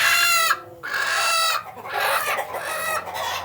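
Chickens on a small farm, including a broody hen, cluck and squawk loudly and continuously, with harmonic calls, close to the listener and with no talk over them.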